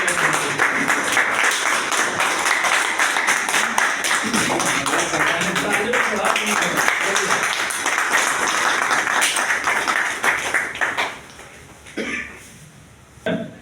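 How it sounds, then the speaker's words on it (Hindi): Loud, dense clapping from a crowd at a railway workers' gathering in Sultanpur, sustained for about eleven seconds before thinning out into scattered claps and a brief murmur of talk. "आप लोग जोरदार तालियों से समर्थन करें"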